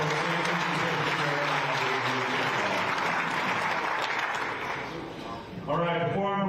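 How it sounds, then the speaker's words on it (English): Audience at a VGA national championship pairings party applauding the champions, sustained loud clapping from a crowd that dips near the end as a voice starts speaking over it. "let's give a big round of applause to our champions"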